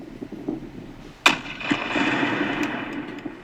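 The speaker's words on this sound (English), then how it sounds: "This is a test explosion of this plane, the first explosion ever." A test explosion of an attack drone plane from Ukraine's tech sector: one sharp, loud blast rings out after a second of quiet rustling, followed by a rumbling tail and scattered smaller thuds.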